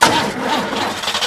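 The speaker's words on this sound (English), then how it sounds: "Try the engine." A cartoon car engine starts up with a steady mid-pitched rumbling turnover that holds for about a second, close and loud, with a faint voice cue at the very start.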